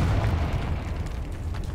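Confringo fire spell in the Hogwarts Legacy video game, a dense rumbling blast that fills the whole moment with low booming energy and crackle, loud and alone.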